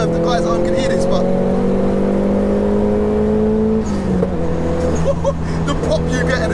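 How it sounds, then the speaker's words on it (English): Nissan Pulsar GTI-R engine pulling hard toward redline, a loud steady drone rising in pitch with a brief dip near the top as it shifts, heard from inside the car. "the pop you get at the top when you're at red line"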